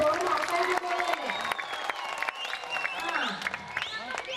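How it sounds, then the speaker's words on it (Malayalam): Audience applause at a Mappilappattu stage show, dense clapping spread across the hall, steady and fairly loud with crowd noise, while singing or talk carries over it throughout. "ഞാൻ നന്ദി പറയുമ്പോൾ അതിൻ്റെ ഒരു കൈയടി ആവാം"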